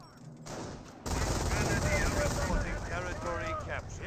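Machine gun fire in a Company of Heroes 1 battle, dense rattling bursts in a continuous loud din of combat noise, with voices talking over the fighting.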